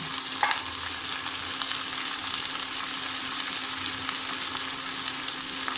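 Papaya pieces going into a pan of sizzling fried onions, a steady close frying hiss with a brief stir or clatter near the start, alone with no talking.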